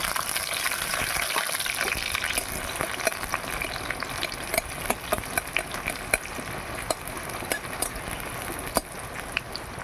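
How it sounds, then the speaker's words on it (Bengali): Chopped onions with a bay leaf frying in mustard oil in a wok, a loud continuous sizzle broken by sharp clicks of a spatula stirring, with no voices. "ভালো করে পেঁয়াজগুলো ভেজে নেব"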